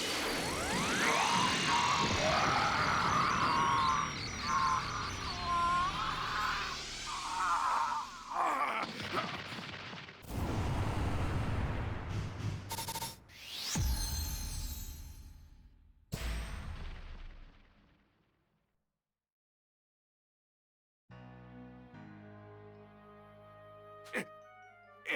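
Special Beam Cannon attack in Dragon Ball Z: Kakarot, a long roaring energy blast with crackling bursts and sweeping tones, several loud impacts, then a fade to near silence before soft music returns.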